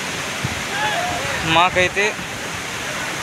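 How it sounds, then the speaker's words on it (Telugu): The Chelamchenu waterfall near Kuppam roars in a continuous, broad rush close by, while someone speaks briefly over it. "చెలంచేను వాటర్ ఫాల్స్ కుప్పం దగ్గరలో ఉన్న వాటర్ ఫాల్స్ ఇదండి"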